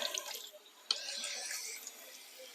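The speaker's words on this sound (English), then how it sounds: "I'm just going to give it a quick wash" Running tap water splashes and trickles over trout fillets as they are rinsed, a soft, close, uneven patter with a few brief drips and spatters and nobody speaking.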